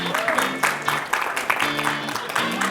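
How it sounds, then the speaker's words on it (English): An audience applauds after a speaker introduces guests to the stage, a dense, steady wash of clapping that holds loud for a couple of seconds, with a voice faintly heard beneath it. "Please give them a round of applause."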